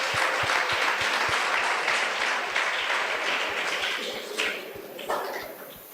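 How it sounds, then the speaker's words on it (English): An audience applauds at a Vedic geometry demonstration by gurukulam students, a dense wash of many hands clapping steadily for about six seconds before thinning slightly toward the end. "let's give the Sutrakaras a big round of applause."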